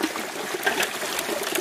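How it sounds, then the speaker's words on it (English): A creek runs steadily at an Arizona gold-sluicing spot, with a continuous close trickling and gurgling wash of water, no voices. "just hear the creek running"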